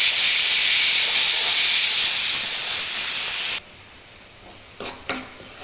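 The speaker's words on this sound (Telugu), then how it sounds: "ఆయిల్ వేడైన తర్వాత కట్ చేసి పెట్టుకున్న ఉల్లిపాయలు పచ్చిమిర్చి వేసేసుకొని 2 మినిట్స్ ఫ్రై చేసుకోవాలన్నమాట" Onions and green chilies hitting hot oil, a loud, bright hissing sizzle for several seconds that cuts off abruptly into near quiet, followed by a couple of faint clinks.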